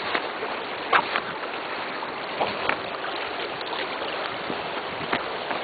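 River water flowing steadily in a broad, continuous wash with a few soft splashes and knocks near the recorder, no speech heard.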